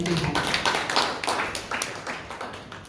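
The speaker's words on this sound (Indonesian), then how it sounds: "Berikan tepuk tangan bagi Tuhan." A church congregation at Sunday worship claps their hands in a steady, fairly quick rhythm, the claps crisp and moderately loud, slowly fading over a few seconds.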